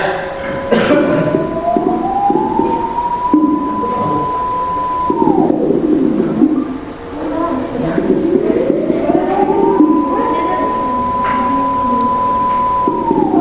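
A generated test tone in a classroom sound lesson glides upward, holds a steady pitch, then drops. The rise and hold repeat a second time, loud and continuous, with a brief cough-like noise between.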